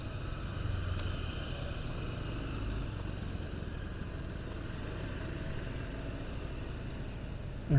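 Steady street traffic crawling through a jam in Legian, Bali: a continuous low rumble of car and motorbike engines, moderately close and unbroken, with no speech over it.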